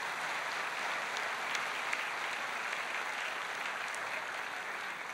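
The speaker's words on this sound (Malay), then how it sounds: "Berikan tepukan pada kalian." Steady applause from a student audience at a university pledge ceremony, a continuous even wash of many hands clapping, fairly distant and moderately quiet throughout.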